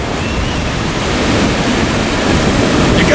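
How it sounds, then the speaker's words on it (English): Ocean waves crash and roar steadily at Rialto Beach, Washington, a loud continuous wash of surf mixed with wind buffeting the microphone. "here we are, we're at the beach"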